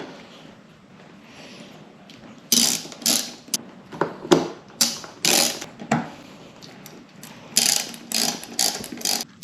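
Three screws driven into the steering wheel bracket of a Dodge Challenger, heard as a close, brisk series of ratcheting clicks and mechanical bursts repeating in short irregular spurts after a quiet start.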